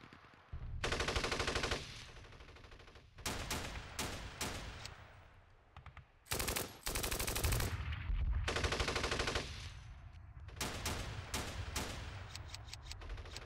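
Bursts of machine-gun and rifle fire in a Steel Panthers battle set in the 1980 Iran-Iraq war, with several loud sustained volleys broken by short gaps and sharp individual shots, no talking.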